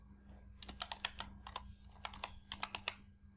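Someone types on a computer keyboard in a quiet room, a close run of crisp key clicks in short bursts with brief pauses between them, no voices.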